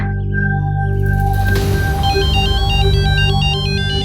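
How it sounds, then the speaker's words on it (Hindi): A phone ringtone plays as a call is placed. Sustained electronic tones give way to a repeating melodic ring pattern that runs steadily to the end, loud and close with no voices. "मैं सुखी को फोन करती हूँ"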